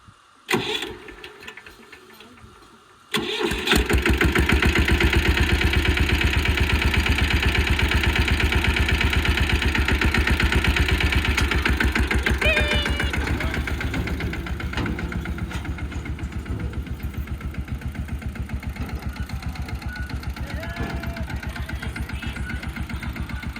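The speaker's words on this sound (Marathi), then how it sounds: "पहिले ट्रॅक्टर चालवले" A tractor's diesel engine starts up and settles into a loud, steady chugging idle close by, with a rhythmic low thrum that eases slightly later on.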